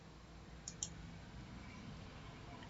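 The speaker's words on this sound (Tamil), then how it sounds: "இப்போ போல்ட் அப்படின்ற ஆப்ஷனை நான் கிளிக் பண்றேன்" Two quick, faint computer mouse clicks sound close together while the Bold option in Excel is clicked, set against a quiet steady room hiss.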